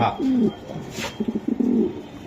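Low, throaty racing Budapest pigeon coos in a short rolling series, fairly close, with a brief rustle partway through.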